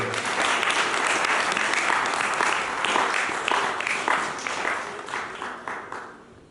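A church congregation applauds loudly and steadily, a dense wash of clapping that fades toward the end.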